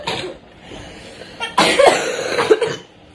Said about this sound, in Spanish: que tengo mucho tos